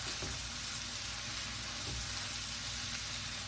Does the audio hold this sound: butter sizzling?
yes